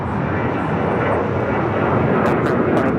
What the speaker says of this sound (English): Looks like British Airways heading over to the southeast corner of Tom Bradley.